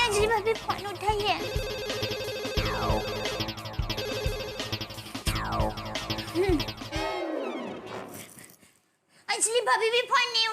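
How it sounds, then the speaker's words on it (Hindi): A telephone ringtone repeats in a dense, loud electronic pattern alongside music, cuts away abruptly near the end, and is followed by people talking. "फोन उठाइए।"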